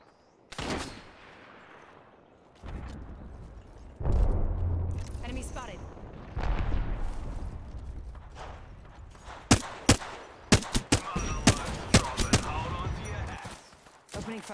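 Gunfire in Apex Legends, with sharp bursts of shots cracking out in the second half, loud and close, while people talk at intervals over the game sounds.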